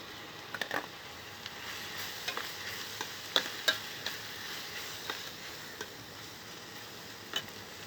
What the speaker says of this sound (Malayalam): ഇഞ്ചി വെളുത്തുള്ളി പച്ചമുളക് ഇതിൻ്റെ പച്ചമണം ഒന്ന് മാറിയിട്ടുണ്ട് നമുക്ക് ഒന്ന് തക്കാളി ഇട്ട് കൊടുക്കാം